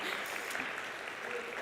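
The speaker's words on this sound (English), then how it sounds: "Rev C, got applause, that's nice." A church congregation applauds at a Sunday service, a steady wash of clapping that holds evenly through the moment without breaks.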